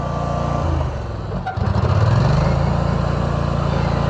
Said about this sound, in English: piloting the tractor